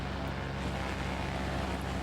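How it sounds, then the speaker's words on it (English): A Mooney light aircraft engine drones steadily in flight over the sea, running roughly, a continuous close hum with wind noise and no talking. "Listen to that engine. That's awful."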